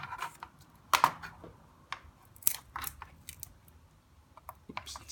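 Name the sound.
cutting a piece of material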